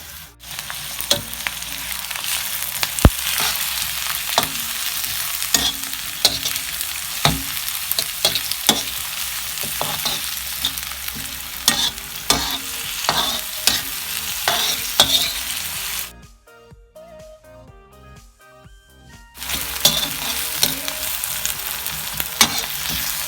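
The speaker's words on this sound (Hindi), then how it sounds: "इसके लिए मैंने डाले हैं ऑयल में 3 दरमियाने प्याज।" Three medium onions fry in oil with cumin for tandoori chicken, giving a constant close sizzle with frequent stirring clatters, then a brief quiet gap before the sizzle returns.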